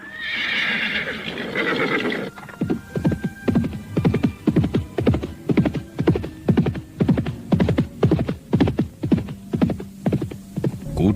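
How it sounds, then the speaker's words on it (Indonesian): Horse hoofbeats galloping as a sound effect in an Indonesian audio drama, a steady, loud rhythmic drumming of hooves that runs for several seconds after a brief whinny and rumble at the start. "suara derap kuda yang melingkar di tebing-tebing bukit membuat para prajurit berdebar"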